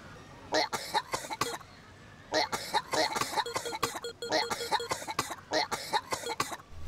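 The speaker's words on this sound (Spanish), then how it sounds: "tose muchísimo" Theme park visitors in the PC game Theme Park cough in repeated clusters of short harsh bursts, with a pause before a longer volley of rapid coughs and throat clearing.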